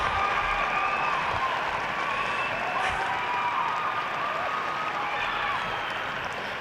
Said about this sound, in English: we can end this play with a unanimous bow and a round of applause